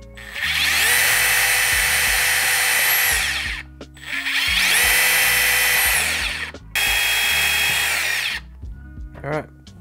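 Power drill driving screws into a homemade 2-meter dipole antenna, three loud sustained whirring bursts of several seconds each with brief gaps, ending in short quieter clicks.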